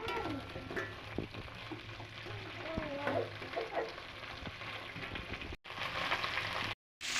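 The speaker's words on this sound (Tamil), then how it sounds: "இது வெண்டைக்காய் நல்லா வதங்கிக்குது" Okra (ladies finger) sautéing in a pan, a soft, dense sizzle with light crackling and occasional stirring, steady and close but fairly faint, broken by a brief dropout near the end.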